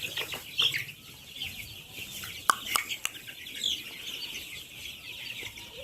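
Sonali super hybrid A+ chickens cluck and call in a poultry shed, a steady low chorus with a few sharper squawks and brief bursts of wing flapping, no clear talk over it.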